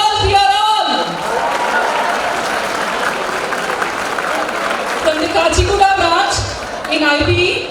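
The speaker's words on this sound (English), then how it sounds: "A huge round of applause," Audience applause at a college freshers' day event, a sustained dense roar of clapping filling the hall for several seconds, with a voice speaking over it near the start and again toward the end.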